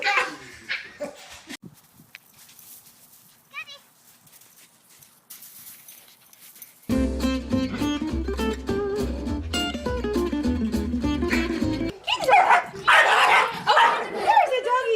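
Dogs bark in bursts in a funny animal compilation, mixed with music, horse hoof clip-clops and people talking.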